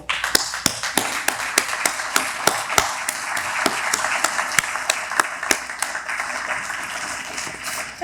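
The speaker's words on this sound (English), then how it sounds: "let us all applaud you" A small group claps in a sparse, uneven rhythm, the individual sharp claps standing out over a faint background murmur.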